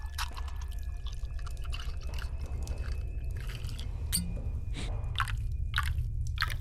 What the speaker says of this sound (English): let me pour you your drinks